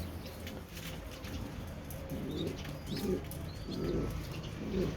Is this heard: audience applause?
no